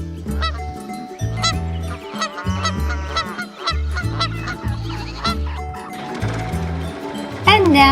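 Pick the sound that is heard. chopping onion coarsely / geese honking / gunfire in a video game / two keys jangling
geese honking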